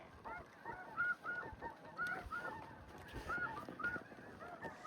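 Snow geese honk during a hunt in Arkansas: a dense, continuous flock chorus of many overlapping nasal calls, close and fairly loud, in irregular bursts with no pauses.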